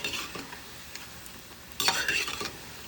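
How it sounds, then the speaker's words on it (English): Kurhee boulders sizzle and crackle as they are fried again in hot oil, with a spoon stirring and scraping the pan, then a louder burst of frying near the end. "we're going to drop them right back again to fry"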